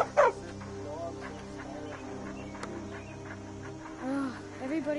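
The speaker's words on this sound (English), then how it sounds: "That dog is creepy looking." A dog in the Skyrim video game yelps sharply once near the start, then gives softer whining barks toward the end, set against steady game ambience while a person talks.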